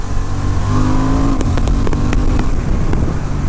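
A Honda Hornet 750 motorcycle pulls hard in sport mode from around 2,000-3,000 rpm, its loud, close engine note climbing steadily before a brief quick shift and continued strong pull under wind noise.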